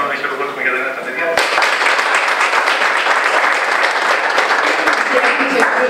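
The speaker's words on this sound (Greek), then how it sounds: "θα ήθελα να χειροκρότημα για τα νέα τα παιδιά" A hall audience at an anti-drug event bursts into applause, a thick sustained clapping that starts abruptly after a speaking voice and continues steadily to the end.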